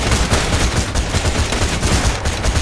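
Rapid shotgun blasts from the Borderlands 2 video game fire in a dense, loud burst of overlapping reports with no pauses between them.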